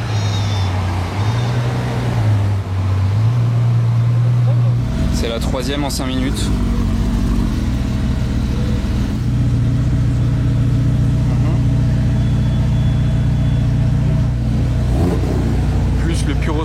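A white Ferrari F12 arriving among other supercars, its engine rumbling and revving loud and close for a long stretch, with someone talking in French over it and crowd noise around.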